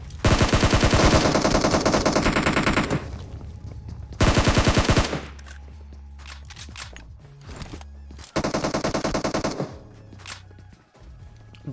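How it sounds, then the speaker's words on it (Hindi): Loud bursts of automatic gunfire from the PUBG Mobile solo first-person battle royale game, three heavy sustained volleys separated by quieter stretches of scattered shots and footsteps. "तो भाई यहाँ पे सबसे पहले इस बंदे को निकलकर फायर करता हूँ मैं"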